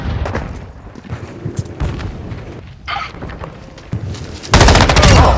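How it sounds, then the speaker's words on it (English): Full-auto bursts from a Cronen Squall rifle in the Call of Duty: Modern Warfare II game, loud and dense, with rattling volleys and heavy thumps running throughout and building to a sustained blast at the end. "The Cronin Squall is full auto."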